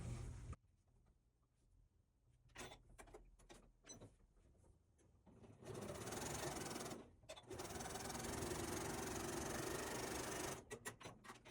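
A sewing machine runs quarter-inch quilt seams along a drawn diagonal line on fabric for a pincushion. A few short stitching bursts lead into two long, loud, steady runs, with no talking.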